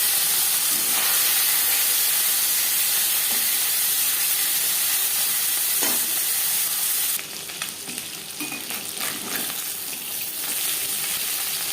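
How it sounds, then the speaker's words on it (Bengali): Small mola fish rubbed with salt and turmeric hit hot mustard oil in a pan with a loud, continuous sizzle and crackle that bursts and spits more strongly partway through. "এবার দিয়ে দেব লবণ হলুদ মেখে রাখা মাছ"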